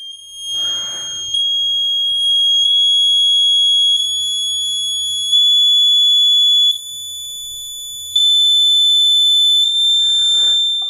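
A passive buzzer driven by an Arduino emits a loud, piercing pure tone that steps upward in pitch across the whole span, with a short noisy burst at the start and end.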